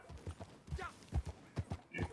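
Horse hooves clopping in Red Dead Online, a quick irregular run of thudding steps on ground as the horse shifts near a cliff edge, close and moderately loud.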